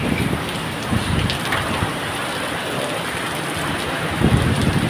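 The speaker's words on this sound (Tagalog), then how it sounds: "Sobrang humahagupit pa rin yung bagyo." A typhoon lashes the Philippines with driving rain and gusting wind, a loud constant roar that swells in stronger bursts near the middle and end.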